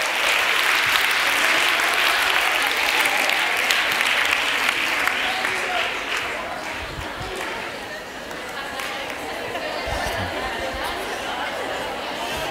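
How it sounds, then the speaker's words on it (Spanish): A conference audience applauds loudly with sustained clapping that eases slightly midway, mixed with some chatter. "¡Un aplauso!"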